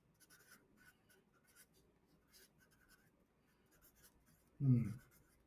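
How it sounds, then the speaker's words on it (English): Pen scratching on paper in a quiet room, faint intermittent strokes and scribbles, followed by a louder knock or thud near the end. "I'm writing down."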